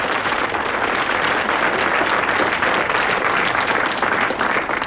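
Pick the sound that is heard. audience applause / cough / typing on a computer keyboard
audience applause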